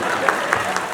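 An audience claps at a satirical comedy performance, a brief burst of dense, steady applause heard fairly close.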